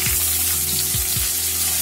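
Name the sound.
garlic and ginger frying in oil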